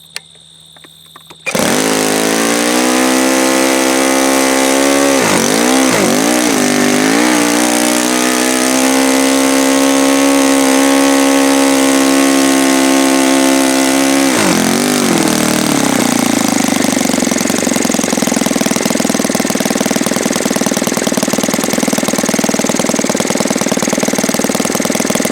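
OS FS 120S III four-stroke model engine turning a propeller, running loud and steady with its pitch swooping up and down as the throttle is blipped, then settling into a rough, lower-speed drone.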